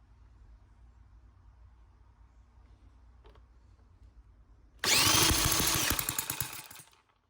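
After a quiet stretch, a small engine, touchy about its fuel mixture, suddenly bursts into a loud, high, raspy over-throttled roar for about two seconds, then fades out.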